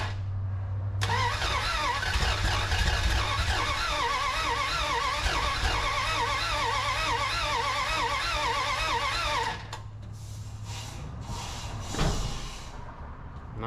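The engine of a 1981 Dodge D150 pickup truck, running with a leaking fuel fill hose, cranks and catches. It runs rough for about nine seconds, popping and spitting close by, then drops to a quieter sputter with a sharp pop near the end.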